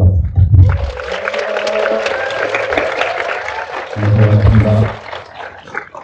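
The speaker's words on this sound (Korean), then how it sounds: "여러분 다시 한 번만 뜨거운 박수 부탁드립니다." An audience at a post-screening talk for a film's 20th-anniversary showing gives a warm round of applause, dense clapping that swells and fades, with a voice and some tonal sounds over it.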